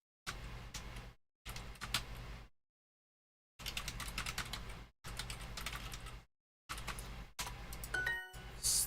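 Bursts of rapid keystrokes on a computer keyboard, close and fairly quiet, coming in several separate runs broken by short silences, with a brief electronic chime near the end.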